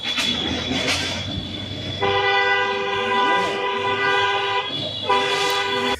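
Vehicle horns honk in a French housing estate: one sustained blast, then a brief gap and another long blast, loud and close over a constant street rumble.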